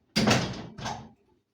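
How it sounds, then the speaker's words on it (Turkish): A door being closed in a village home, two quick wooden thumps in succession, the first louder, close by, followed by silence. "Şöyle kapıyı kapatayım."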